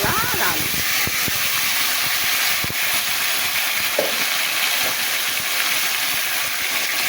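Bitter gourd and potatoes frying in hot mustard oil give a loud, steady sizzling hiss with scattered crackles and small pops throughout, close up and continuous.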